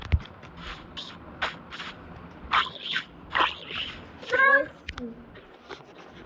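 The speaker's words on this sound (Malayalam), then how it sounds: "പൂച്ച." Several short cat meows come at intervals, moderately close, mixed with small clicks and soft speech-like sounds in a quiet room.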